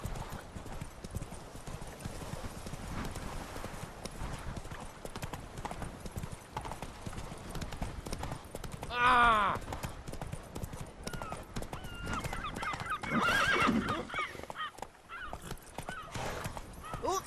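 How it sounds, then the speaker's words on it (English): Hooves of a horse beat a steady rhythmic clip-clop as it gallops in The Witcher 3 video game, close and moderately loud, with two louder neighing whinnies breaking in partway through. "Run, Roach."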